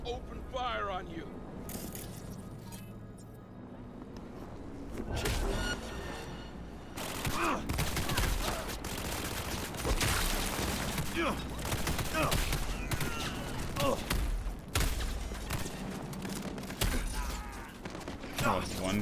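An enemy in Cyberpunk 2077 fires bursts of gunfire, sharp cracks and rapid volleys that come close and loud in irregular clusters, with voices and game sounds mixed in.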